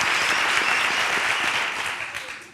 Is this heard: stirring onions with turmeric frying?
no